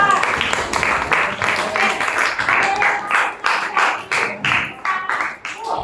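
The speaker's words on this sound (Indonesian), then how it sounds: "Oke, tepuk tangan untuk kelompok 4" A classroom claps for a group of students, a short burst of close, uneven hand clapping that thins out toward the end, with some talk mixed in.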